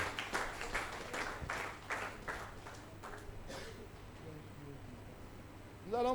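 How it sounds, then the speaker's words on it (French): A church congregation claps during a worship service, a run of scattered, fairly soft hand claps in the first half that fades under a voice and background murmur. "Let's clap for the Lord."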